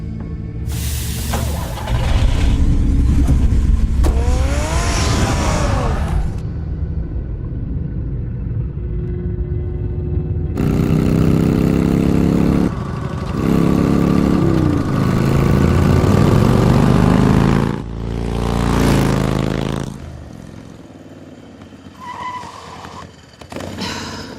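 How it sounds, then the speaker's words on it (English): Batman's car driving in the video game Batman: The Telltale Series, with a loud, steady engine roar and deep rumble that surges and shifts pitch, and tyres skidding now and then, close and continuous for the whole stretch. "Get the car ready, Alfred."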